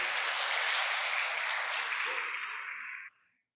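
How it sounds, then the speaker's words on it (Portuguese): A church congregation applauds for pastor Maristela, a dense wash of clapping that holds steady, then tapers and cuts off sharply after about three seconds. "Salva de palmas para a pastora Maristela"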